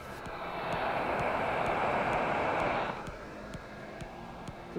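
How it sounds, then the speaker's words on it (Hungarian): A cheap hot air soldering station with a three-phase blower motor runs with a soft, steady airy hiss for a few seconds, then cuts off, leaving faint ticking in a quiet room. "Szinte alig hallani, tehát nem ez a hőlégfúvós ordítása van, hanem egyszerűen csak jó."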